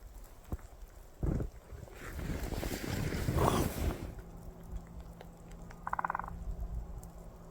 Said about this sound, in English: That is woodpecker.